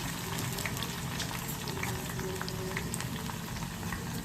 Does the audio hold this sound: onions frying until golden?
yes